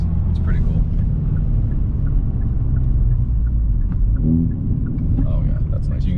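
A 2021 Hyundai Veloster N engine rumbles low and loud from inside the cabin as it automatically rev matches, a constant deep drone with a brief rising tone, while people talk over it.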